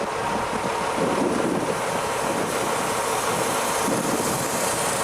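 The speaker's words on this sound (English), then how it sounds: "It's windy" Steady, loud wind roars and buffets a microphone, a constant rushing broadband noise with no voices, suggesting an exposed outdoor spot.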